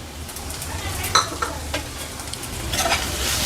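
Onion samosa filling sizzles in a pan as coriander powder, chicken masala and garam masala are stirred in, with a steady frying hiss and a few sharp spoon-on-pan scrapes and clinks close by.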